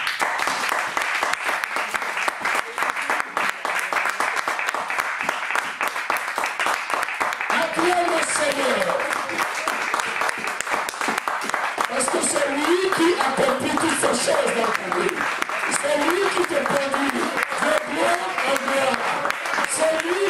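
A church congregation applauds in praise, steady rapid clapping sustained throughout at a strong level, with voices and cheers rising over it in the second half.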